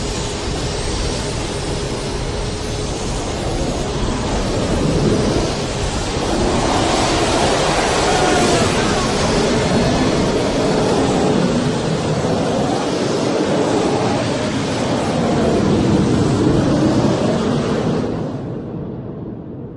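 Jet engines of MiG-21 fighter planes with water injected into the exhaust, throttled up to blow out an oil well fire: a loud, sustained roaring blast holding steady throughout, with no talk, cutting off abruptly at the end.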